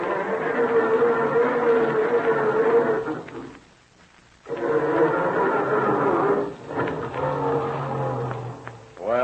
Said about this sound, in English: Does it sound like this when Dad tries to start it in the morning?